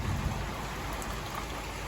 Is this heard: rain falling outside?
yes